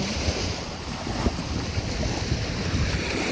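Sea waves wash in at Medina seaside, a steady broadband rush of surf close by, mixed with gusty wind buffeting the microphone and no voices.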